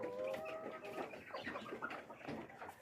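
Layer hens on a small poultry farm cluck softly in a faint, overlapping chorus of short calls that carries on steadily for a few seconds.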